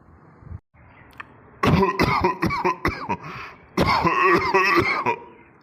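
Two loud, close bouts of harsh, raspy coughing, separated by a brief pause, with hacking bursts like heavy throat clearing.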